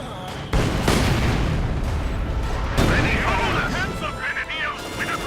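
A Company of Heroes 2 2v2 match in which troops are caught under heavy bullet fire. Dense gunfire and booming artillery roll on continuously beneath a commentator's steady talk.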